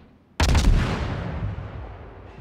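Warship guns fire in a naval combat video game as one sudden, heavy booming salvo that rolls off into a long, fading rumble. No one speaks over it.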